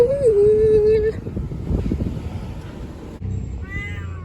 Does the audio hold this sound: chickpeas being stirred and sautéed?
no